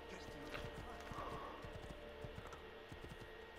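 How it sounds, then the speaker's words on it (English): A horse galloping in the video game Assassin's Creed II, a rapid run of quiet clip-clop hoofbeats in a steady rhythm over a soft game backdrop. "So, I might just borrow this horse real quick."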